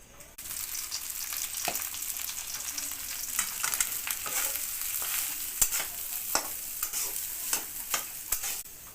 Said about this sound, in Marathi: आता आपण घेऊ भात फ्राय करून